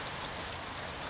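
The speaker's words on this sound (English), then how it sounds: "yeah, it's raining quite a bit" Steady rain falls outdoors, a dense, even hiss of drops with a few louder patters, continuous and fairly close, with no voices.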